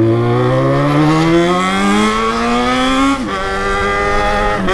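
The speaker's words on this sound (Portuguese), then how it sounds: "O barulho dela é legal, né? Que é moto." A motorcycle engine revs up steadily, its pitch climbing for a few seconds before dropping briefly and holding a loud, close drone.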